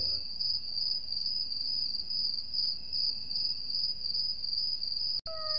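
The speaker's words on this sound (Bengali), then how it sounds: "কেবল ঝিঝি পোকার ডাক শোনা যায়।" Crickets chirping at dusk in a remote village, a steady high pulsing trill that continues without a break, loud and close, with a sharp click near the end.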